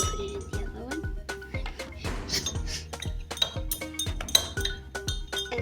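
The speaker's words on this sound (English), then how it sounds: "You're going to stir it." A spoon stirs liquid in a glass during a kids' home science experiment, giving a quick run of bright, repeated clinks against the glass, close and fairly quiet, with some background movement.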